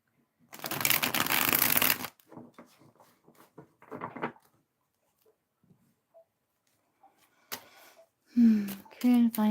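A deck of tarot cards being shuffled, a dense riffling burst lasting about two seconds up close, then brief card taps and rustles, followed by a person talking at the end.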